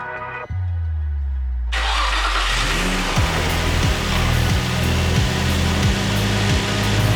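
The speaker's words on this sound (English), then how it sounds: "Now we're gonna start it and hope that it works." Nissan 350Z engine cranking over and then catching, settling into a loud, steady idle with rhythmic pulses close by.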